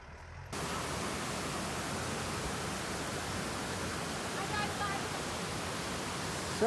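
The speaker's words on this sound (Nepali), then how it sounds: "खोलामा बगिरहेको पानी" Water rushing along a mountain stream on a trek, a steady broad roar that starts abruptly after a brief pause and holds evenly throughout, fairly close.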